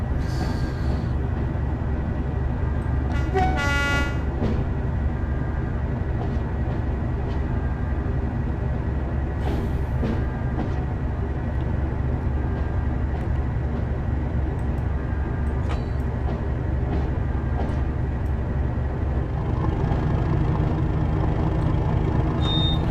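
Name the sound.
WSR Class 37 diesel locomotive departing, from video game Train Sim World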